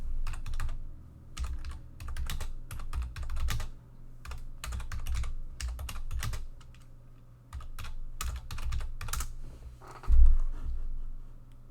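Steady typing on a computer keyboard, with bursts of clicky keystrokes in irregular clusters, close and clear against a quiet room for the whole stretch.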